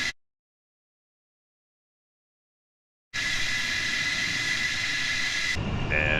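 An F-14A jet engine spins up after a few seconds of silence in a flight simulator, a loud steady roar with a high whine, shifting tone near the end.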